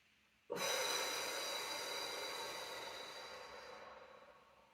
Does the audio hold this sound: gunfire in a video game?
no